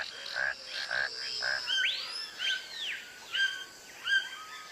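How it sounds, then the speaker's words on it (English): A toucan gives a series of croaking, rhythmic calls at moderate distance, over a soft background of frogs and other birds. "It's a toucan with a lovely bright beak."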